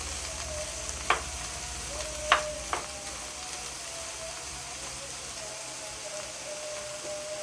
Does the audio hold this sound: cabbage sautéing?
yes